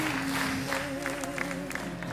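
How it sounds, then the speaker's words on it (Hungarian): Steady applause from a TV talent-show final audience fills the clip, with a sustained musical tone running underneath. "megérdemled ezt a tapsot."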